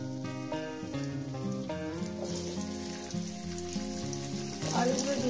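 Potato pieces frying in oil in a pan, a soft sizzle running beneath louder background music and swelling toward the end.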